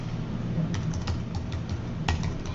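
Quick clattering keystrokes on a computer keyboard tap out in an uneven burst, close and fairly clear over a low background hum.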